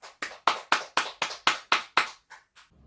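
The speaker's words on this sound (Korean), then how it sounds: "하나님께 영광의 박수 올려드립니다" Steady rhythmic clapping by a church congregation during a worship service, about ten sharp claps at an even pace, the last few softer and trailing off.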